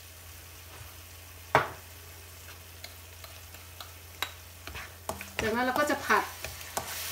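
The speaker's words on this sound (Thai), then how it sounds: "ผัดให้ทุกอย่างหอมหุยหุยเข้ากันนะคะ" Noodles with seasoning and sugar being stir-fried in a pan for a Thai fried noodle dish, with scattered scrapes and clatter over a low sizzle, a sharper clang early on, and someone speaking briefly near the end.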